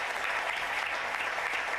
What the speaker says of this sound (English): let's play a bit more applause